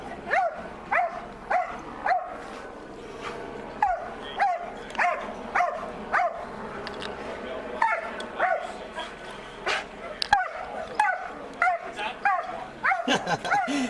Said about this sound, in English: Good boy, doggy. He's being a good dog.